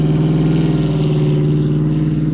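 A car engine being worked on runs loudly nearby, a steady throbbing drone with a slight pulsing rhythm that carries throughout, with no talking over it.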